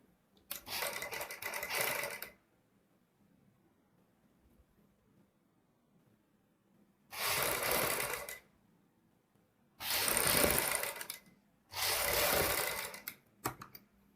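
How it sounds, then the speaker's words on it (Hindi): A sewing machine stitching a new design onto a suit or kurti sleeve runs in four close, steady bursts of rapid mechanical whirring, separated by quiet pauses. "पूरी पट्टी के ऊपर हम इसी तरीके से सिलाई लगा लेते हैं।"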